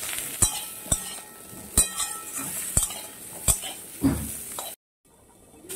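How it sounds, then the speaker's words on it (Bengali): Cauliflower florets stirred in hot oil in a pan for a Bengali katla fish curry, a spatula clinking and scraping the metal in about six sharp knocks over a soft sizzle, ending in a brief silence. "এবার ওই তেলের মধ্যে আমি দিয়ে দিচ্ছি ফুলকপিগুলো। কপিটাও একটু নেড়ে চেড়ে নেব।"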